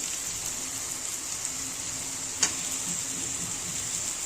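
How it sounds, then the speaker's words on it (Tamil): Green chillies and chopped tomato sauté in a pan for crab gravy, a steady soft sizzle running throughout with one brief sharp clink of a utensil partway through. "இது எல்லாமே வதக்கிக்கலாம் இப்போ இது வதங்கிட்டே இருக்கிறதுக்குள்ளே"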